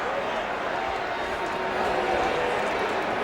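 Canadian football stadium crowd at the 2003 Labour Day Classic, Winnipeg at Saskatchewan, booing and grumbling in a steady broad roar, with play-by-play commentary over it.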